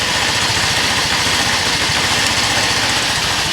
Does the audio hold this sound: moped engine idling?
yes